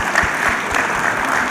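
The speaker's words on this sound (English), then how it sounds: "Can you please give a round of applause for my panelists?" A conference audience applauds panelists at an employment summit in Lagos, a steady wash of many hands clapping at an even level throughout, with no one speaking over it.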